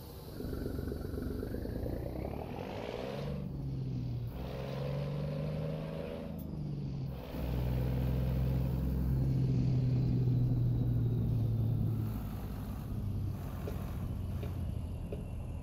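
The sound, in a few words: Cummins M11 truck engine running, American Truck Simulator video game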